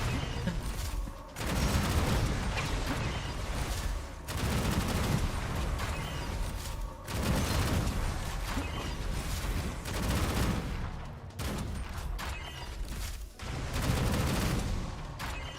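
Sustained automatic gunfire from a recoiling gun in a shooter video game, dense rattling bursts that run several seconds each, separated by brief pauses, loud and up close.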